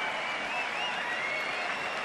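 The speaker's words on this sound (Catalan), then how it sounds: "Aplaudeixen el tabaler." Audience applause during La Patum de Berga, a night street festival in Berga, greeting the drummer; a steady, dense wash of clapping fills the whole stretch at an even, moderately loud level without a break.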